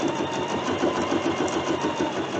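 A long-arm quilting machine stitches an edge-to-edge pattern across a quilt, a steady close mechanical whir with a fine rapid needle chatter running unbroken throughout.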